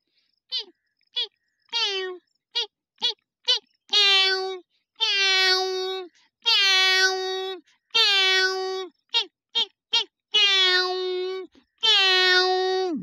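A man imitates a hungry cat, voicing a series of short clipped meows that build into longer drawn-out pleading cries, loud and close with brief pauses between calls.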